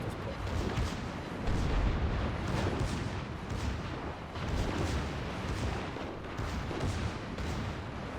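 Secondary guns firing aboard the West Virginia 44 battleship in a naval game, steady booming volleys over a continuous roar of battle noise, loud and sustained with periodic heavier blasts.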